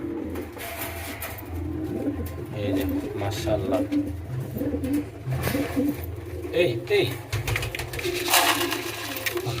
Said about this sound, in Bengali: আমাদের কিং কবুতর দুইটাই চলে আসছে এখানে খাবার খাওয়ার জন্য